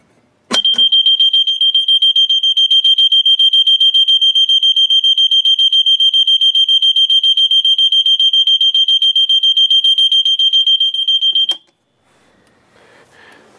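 A four-wire fire alarm blares a loud, shrill, rapidly pulsing electronic tone for about eleven seconds during a system test, then cuts off abruptly into near silence.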